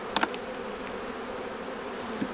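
Honey bee trapped inside a beekeeper's veil, buzzing steadily and close during a winter hive inspection, with a couple of faint clicks and handling noises.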